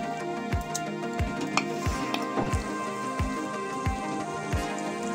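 Garlic paste frying in half a bowl of oil in a cooking pot for egg qeema biryani, a steady crackling sizzle with regular soft stirring thumps, close and continuous with no talk.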